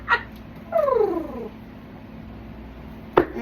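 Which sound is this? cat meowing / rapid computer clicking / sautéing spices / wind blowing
cat meowing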